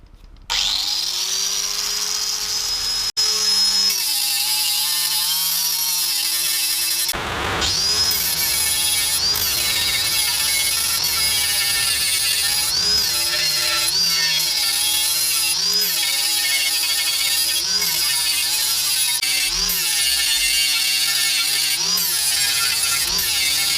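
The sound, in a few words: grinder polishing rusty steel expansion chamber of TZR250 motorcycle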